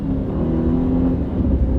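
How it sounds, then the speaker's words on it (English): A four-cylinder turbocharged car, about eight years old, pulls away under acceleration with a steady, close engine drone and whir that holds evenly throughout. "Now, let's take off and see what the 4-cylinder turbo does."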